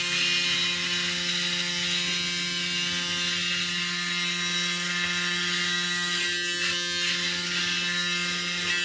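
An electric shaver buzzes steadily against a face throughout, a constant close-up whirring drone with a slight rasp and no pauses.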